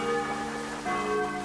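Church bell tolling in the video game Angels of Death, sustained ringing overtones that swell and fade, with a second strike around the middle, steady and fairly loud with no voices.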